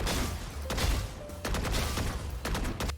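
A rifle in the video game Valorant fires in short bursts, with several sharp, loud cracks grouped in twos and threes and brief pauses between the bursts.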